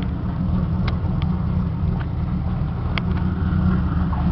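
Chevy Camaro with a six-cylinder engine and five-speed manual, idling steadily with a low, even rumble close by, a few faint clicks over the continuous hum.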